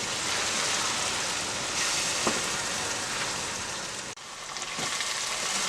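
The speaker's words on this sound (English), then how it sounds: "And we're going to let this fry." Liberian potato greens fry in a pot with a continuous, close sizzle and crackle, broken by a couple of faint stirring knocks and a brief dip midway.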